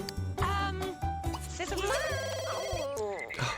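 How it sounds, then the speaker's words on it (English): Telephone ringing in The Sims 2, repeated electronic ring bursts layered over the game's melodic background music, with brief game voice chatter mixed in. "the phone's ringing"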